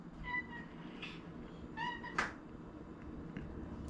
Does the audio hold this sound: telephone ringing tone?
no